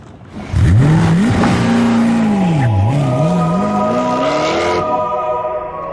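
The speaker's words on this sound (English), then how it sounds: "Its supercharged V8 pumps out a simply colossal 655 brake horsepower." A supercharged V8 Koenigsegg CC8S supercar revs hard and loud close by, its engine note climbing, dipping and climbing again through gear changes, with no talk over it.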